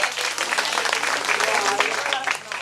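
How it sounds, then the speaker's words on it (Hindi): Audience applause at a night devotional stage show of Shree Shyam Darshan, a brief dense burst of clapping from a crowd, loud and steady with a voice over it. "जोरदार ताली की अपेक्षा"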